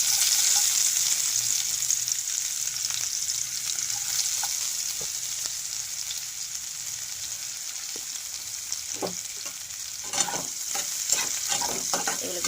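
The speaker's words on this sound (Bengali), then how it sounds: "ভালো করে নেড়ে একটু লাল করে ভেজে নেব" Chopped onions frying in fish-frying oil with black cumin seeds, a constant close sizzle broken by repeated scraping stirs of the spatula toward the end, no voices.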